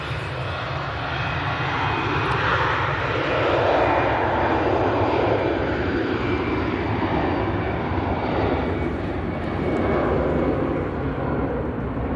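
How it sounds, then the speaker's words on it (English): An EasyJet airliner takes off from Manchester Airport, its engines roaring loud and steady throughout, with a broad sustained rumble that swells and fades slightly as it passes. "EasyJet lined up, ready to go."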